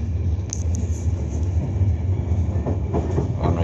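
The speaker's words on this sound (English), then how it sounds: "Enterprise train here leaving Dublin Connolly station" An Enterprise passenger train pulls out of Dublin Connolly station in Ireland, bound for Belfast. A steady, close rumble carries clickety-clack wheel knocks over the rails, with faint high squeals from the wheels.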